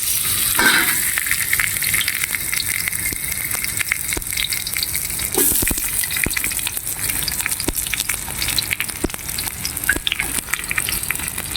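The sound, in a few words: garlic and onions frying in oil in a pan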